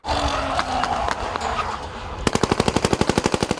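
Rapid bursts of automatic firearm gunfire at a noisy wedding, sharp repeated cracks in a fast steady rhythm, preceded by a noisy crowded outdoor scene.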